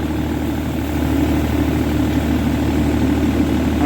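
Tractor engine running at steady high revs while spraying a jackfruit orchard, a loud, continuous low drone with a slight vibration and no speech.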